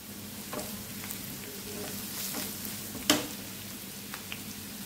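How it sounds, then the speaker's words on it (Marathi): Onion frying in a pan as turmeric is added, a steady close sizzle with soft stirring scrapes and one sharp clatter partway through, no voices. "कांदा लालसर भाजून घ्यायचा आहे आपल्याला"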